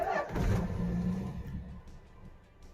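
A car with a three-speed column shifter cranks and fires up, the engine catching with a short rev near the start, then settling into a quieter idle that fades down.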